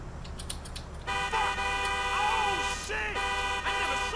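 A car horn in Grand Theft Auto IV blares in a long, loud, sustained honk that begins after a second of quiet and keeps sounding with slight wavering to the end.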